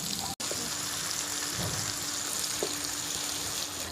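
Surmai fish steaks fry on a hot tawa, a dense close crackle of oil with a sharp knock from the turner as the pieces are flipped.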